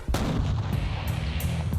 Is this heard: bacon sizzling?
no